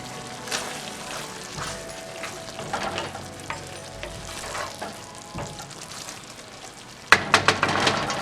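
Onions fry in a pan with vegan barbecue chunks, a close, lively sizzle with irregular stirring scrapes and crackles, and a sudden louder burst of frying near the end.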